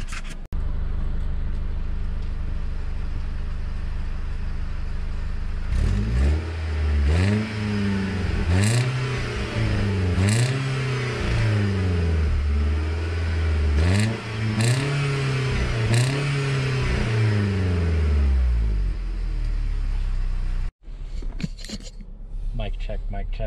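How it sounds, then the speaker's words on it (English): A cheap used Mercedes car engine revs repeatedly at close range, about a dozen rising and falling throttle blips in a steady rhythm, with the exhaust note rumbling between them and a brief voice at the end. "Let's give you a little exhaust note."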